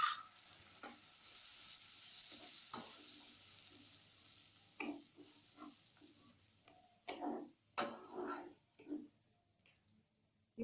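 Masala being stir-fried in a pan after cashew paste thinned with water is added, for a prawn malai curry: faint, intermittent spatula scrapes and soft sizzling, with louder stirring strokes toward the end and no talk.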